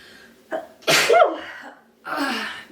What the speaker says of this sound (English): that's why I've sneezed 3 times in the past 1 minute